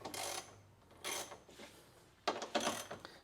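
Ratchet wrench turning a 10mm bolt on a 2007 Subaru WRX air intake box, up close with bursts of rapid clicking, pauses between strokes, and a final flurry of clicks.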